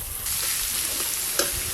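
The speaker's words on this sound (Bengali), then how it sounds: "পেঁয়াজ কুচিগুলো অর্ধেক ভাজা ভাজা করে নিয়েছি" Chopped onions fry in a pan with a steady, close sizzle. A single spatula scrape sounds near the end.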